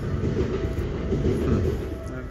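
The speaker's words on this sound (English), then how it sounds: "Quite a few trains this way." A train in Japan rumbles by nearby, a steady low roar of rolling wheels with faint rhythmic clatter throughout.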